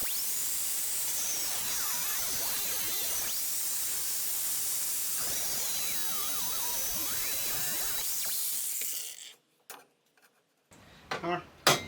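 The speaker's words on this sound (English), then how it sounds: "I'm just going to lob these off with my angle grinder" An angle grinder cuts through the steel tang of a garden fork, a loud, steady high-pitched whine and hiss lasting about nine seconds before cutting out, followed by a few short clanks and handling noises.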